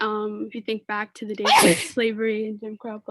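A single sharp sneeze bursts out partway through a man's spoken sentence, briefly loud over the talking.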